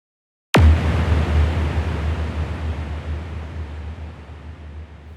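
A single sharp synth kick hits after a short silence, then a long grainy reverb tail from the Vital synth's reverb washes out and slowly fades.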